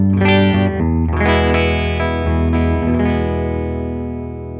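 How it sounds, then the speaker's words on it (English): A clean, dry electric guitar, an Orville by Gibson Les Paul Standard through a Vox Bruno 18-watt amp, plays a few ringing chords and single notes up close. The last chord sustains and slowly fades. "I'm just using an Orville by Gibson Les Paul Standard, and that is going into a Vox Bruno 18-watt amplifier, just a clean sound"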